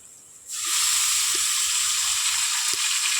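Chopped potatoes tipped into a pan of frying okra, a vegetarian Bengali dish, setting off a sudden loud hissing sizzle that holds steady to the end. A couple of faint clinks sit under it, and nobody talks.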